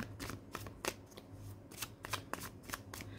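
Tarot cards shuffled by hand close to the microphone, a run of crisp riffling bursts and soft slaps in an uneven rhythm over about three seconds, with no talk.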